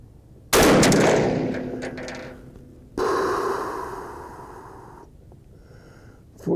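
A 350 Legend rifle fires a single loud, close shot that rings out and decays, then a second sharp blast follows about two seconds later, with a quiet ambient background and no speech.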